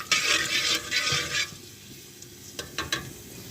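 Cardamom and cinnamon frying in a pan, a bright crackling sizzle in bursts early on that fades, then a few sharp pops near the end.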